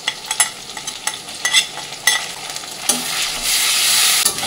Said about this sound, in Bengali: আদা রসুনটা দিয়ে একটু ভাজা ভাজা হয়ে এসছে।